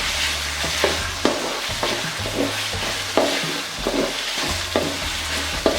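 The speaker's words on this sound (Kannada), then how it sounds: "ಇದಕ್ಕೆ ಈಗ ನಾನು 2 ಸಣ್ಣದಾಗಿ ಕಟ್ ಮಾಡಿರೋಂಥ ಟೊಮೊಟೊ ಕೂಡ ಹಾಕೋತಾ ಇದ್ದೀನಿ" Finely chopped tomatoes fry in a pan for vangibath, a constant sizzle broken by repeated scraping knocks of a spoon stirring, close and fairly loud with no talking.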